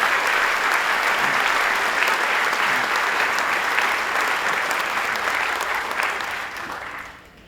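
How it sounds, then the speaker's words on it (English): An audience at a governor's announcement of a new solar gigafactory complex breaks into loud, sustained clapping that continues evenly and fades away at the very end. "You can clap for that."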